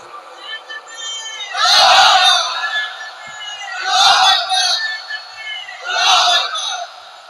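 Crowd at a religious gathering chanting a slogan, three loud swelling shouted bursts about two seconds apart, answering a leader's voice between them.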